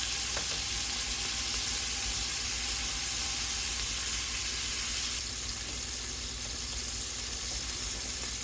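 Smoked ham and rendered fat sizzling in a pan for potato soup, a steady, close hiss of frying that runs unbroken and dips slightly in loudness partway through, with no voices.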